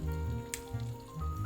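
Sugared sauce with pork frying and bubbling away in a home-cooking pan gives a steady close sizzle, with low pulsing bubbles and a brief spatter partway through, and no voices.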